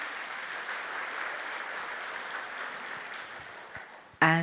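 Audience applause at a welcome program, an even wash of many hands clapping that slowly tapers before a voice begins speaking at the very end.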